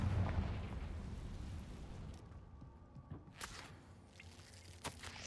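A Confringo blasting spell goes off in a Harry Potter video game: a heavy, rumbling explosion opens loud, then decays into scattered crackling bursts and sharp pops that trail away.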